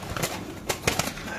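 A Black Racer pigeon at a bird market gives a few faint, short coos with soft fluttering, close by and quiet against light background murmur.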